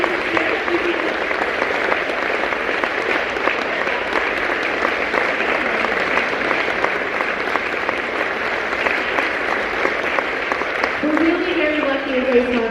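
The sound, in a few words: audience applause at concert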